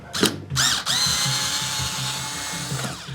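A power drill backs a screw out of a clamp during an arcade cabinet restoration, with a short burst followed by a longer whining run and a brief final spurt, close and loud with no talking.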